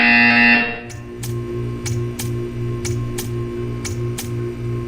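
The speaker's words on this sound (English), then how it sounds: "You will hear a buzzer." A repeating buzzer from the video game Portal 2 sounds about eight times at a steady rhythm, each short pulse clear over a low electronic hum in a test chamber.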